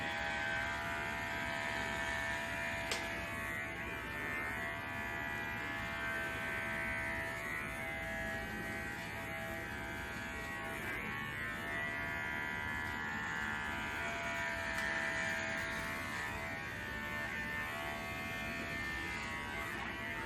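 An electric shaver buzzes steadily and quietly while shaving a head, a continuous close hum with no pauses.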